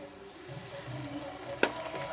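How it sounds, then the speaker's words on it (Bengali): Turmeric, chili, cumin, coriander powder and ginger paste sizzle in a pan while being stirred, a low steady fry with one sharp scrape or clink near the end. "দিয়ে এবার আমি ভালো করে নাড়াচাড়া করে নেব"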